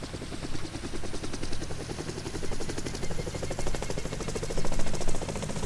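A helicopter starting up in DayZ Mod (Overpoch), its rotor giving a fast, even, thumping chop over a loud engine whine that stays close and constant.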